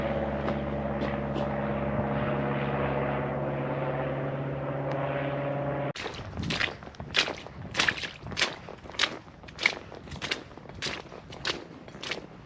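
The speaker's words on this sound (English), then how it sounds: "there's a plane going over me" An airplane passes over an inner-city motorway tunnel at night, a loud steady droning hum with engine tones that cuts off abruptly halfway, followed by sharp rhythmic thuds of footsteps nearby, with no talk.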